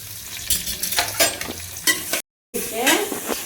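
Fennel seeds, green chili and a large chopped onion sautéing in a pot for mutton biryani, crackling sizzle broken by repeated scraping strokes of a spoon, close up, with a brief cut to silence midway.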